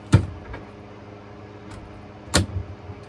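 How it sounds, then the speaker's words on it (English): Two sharp thumps a couple of seconds apart, a new galley cabinet door on a 1984 Chris-Craft Catalina 381 boat snapping shut against a magnetic catch each time, close by in a quiet room. "Nicely closing doors."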